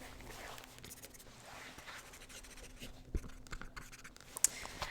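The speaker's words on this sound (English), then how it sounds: "Let me write you down for that." Pen or pencil strokes scratching across paper in a quiet room, soft and close in an intimate ASMR setting, with a couple of small taps or clicks near the end.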